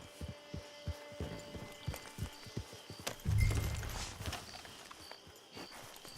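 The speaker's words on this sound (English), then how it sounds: "Get your horse." Horse hooves clip-clop in the video game Red Dead Online, a steady walking rhythm of soft thuds with a low rumbling swell partway through.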